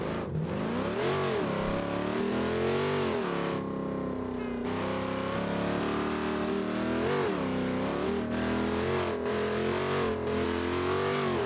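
A truck engine with its speed limiter deleted revs loud and close, holding a steady roar and climbing in pitch as it pulls through repeated acceleration surges on the run.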